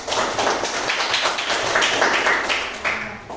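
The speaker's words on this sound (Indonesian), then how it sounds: "tepuk tangan semuanya" A classroom of students clapping their hands together, a dense burst of many claps close by that carries on without a break and then eases off near the end.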